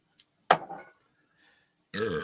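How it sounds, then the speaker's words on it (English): Two burps from a podcast host: a sharp, short belch followed by a pause, then a longer, rougher croaking one, both close to the mic with nothing else heard. "Obligatory burps."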